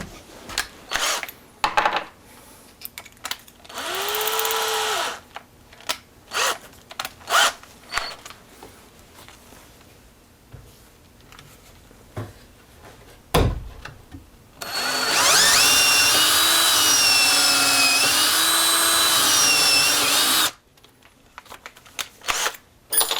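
A power drill countersinks and drives screws into kitchen cabinets. Short bursts come first, then a long, loud, steady whirring run that rises and falls in pitch. Light handling clatter fills the gaps.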